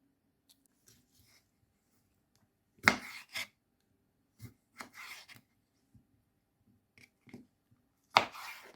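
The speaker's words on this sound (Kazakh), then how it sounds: "Енді тұздалған қиярымызды турап аламыз." Pickled cucumbers are cut with a knife in sparse, quiet sounds. A few sharp strikes and scrapes are spread over several seconds against a faint low hum, with no talking.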